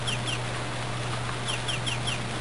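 Chicken clucking from the Harvest Moon: Friends of Mineral Town farm game, short chirpy calls repeating in bursts over a steady electronic hum and background game music.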